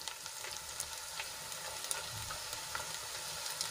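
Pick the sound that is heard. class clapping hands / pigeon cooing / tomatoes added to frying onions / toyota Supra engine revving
tomatoes added to frying onions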